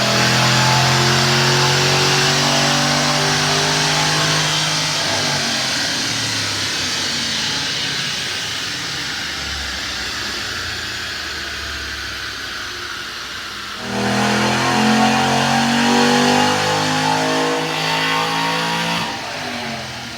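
Naturally aspirated 2005-2010 Mustang 4.6L three-valve V8 with bolt-on mods on a chassis dyno, pulling hard through a long rising rev sweep, then easing off before a second loud, close run.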